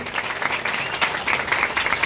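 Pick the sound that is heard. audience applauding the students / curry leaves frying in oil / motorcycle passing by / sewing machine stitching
audience applauding the students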